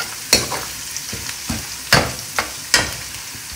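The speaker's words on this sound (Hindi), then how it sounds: "साथ ही साथ हम इसमें ये सारे मसाले शामिल कर देंगे और इसको हम 1 से 2 मिनट के लिए अच्छे से भून लेंगे" Whole spices fry in oil in a pan for chicken pulao. A soft sizzle is punctuated by about six sharp spoon scrapes and clanks at a loose rhythm, close by and with no voices.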